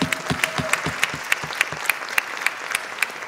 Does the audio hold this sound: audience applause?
yes